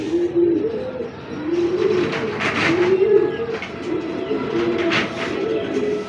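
A female pigeon coos in repeated low rolling phrases, about five bursts at an even rhythm, close and clear, with faint background clatter.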